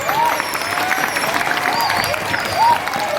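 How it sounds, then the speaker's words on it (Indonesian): An audience at an Islamic boarding school event claps steadily, dense and fairly loud, with thin tonal sounds from voices or sound gear running over it. "luar biasa, tepuk tangan"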